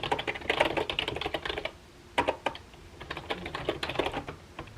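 Steady typing on a computer keyboard during a writing session, with quick irregular clusters of soft key clicks, one brief pause, then more typing, close and fairly quiet.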